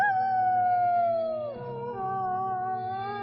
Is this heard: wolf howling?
yes